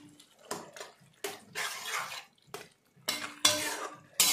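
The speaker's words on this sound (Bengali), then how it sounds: "এবার ডিমটা দিয়ে আমি ভালো মতন এটাকে মিক্স করে দেব।" Egg is mixed into chicken bharta with bursts of wet, squelching stirring and scraping of a spoon against the bowl, coming in short uneven spurts separated by brief pauses.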